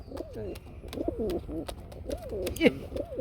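Pigeons for sale, kept as a breeding pair, coo close up in rhythmic rolling phrases repeated several times, with a few faint clicks and rustles.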